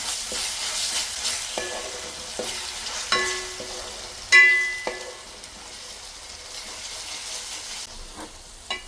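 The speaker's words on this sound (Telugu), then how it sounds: "ఈ అల్లం వెల్లిపాయ పేస్ట్ కూడా పచ్చివాసన పోయే వరకు ఫ్రై చేసుకోవాలి" Ginger-garlic paste fries in a pan with a soft continuous sizzle, broken by scattered spoon clinks and scrapes, one louder knock near the middle, close and moderately quiet.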